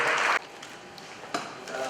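A brief burst of audience applause at a morning power breakfast, loud and dense for a moment before cutting off abruptly into quiet room tone.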